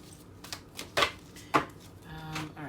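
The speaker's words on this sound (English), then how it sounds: "I already shuffled, so I'll do one more good faith shuffle." A tarot deck being shuffled by hand, giving a few soft papery riffle and tap sounds followed by a brief flutter of cards, close and quiet with no talking.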